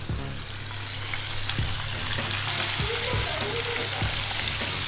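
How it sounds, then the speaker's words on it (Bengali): A whole fish fries in a pan of hot oil, giving a constant loud sizzle with occasional pops and stirring clinks, no talking. "এখন মাছ ভাজা হচ্ছে"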